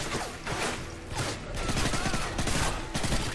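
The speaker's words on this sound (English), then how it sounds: "Did you just shoot me, Price?" Rapid gunfire from Call of Duty: Modern Warfare 3 rattles in dense bursts with explosions and battle noise, sustained and fairly loud throughout with no clear pauses.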